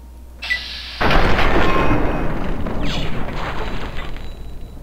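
A loud, close blast of gunfire or explosion from the Fallout 3 video game erupts after a brief lead-in and rolls into a long, noisy decay.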